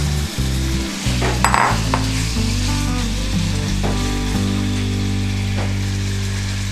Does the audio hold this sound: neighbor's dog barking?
no